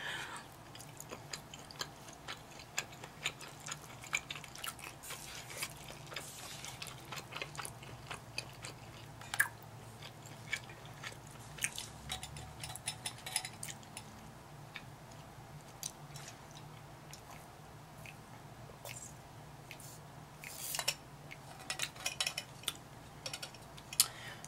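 Close, quiet eating of creamy carbonara fire noodles, with soft chewing, small bites and light cutlery taps on a dish repeating steadily, no talking.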